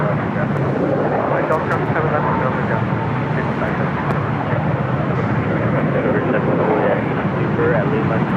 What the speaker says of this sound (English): It's an A320 Neo.